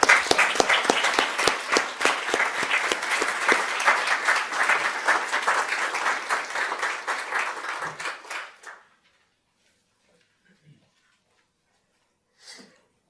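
An audience at a health forum claps for the panelists and keynote speaker, a dense burst of applause lasting about eight seconds before tapering off into near silence with a few faint stray sounds.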